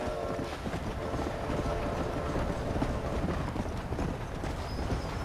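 A train passes in the Red Dead Redemption video game, a steady rumbling and clattering that fills the whole clip at close range, with horse hoof clip-clop mixed in and a faint high whistle-like tone near the end.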